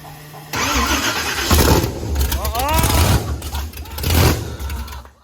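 Supercharged Texas Speed blower engine in a Blazer race car cranking, catching and roaring to life, revving loudly in bursts with people talking and exclaiming over it.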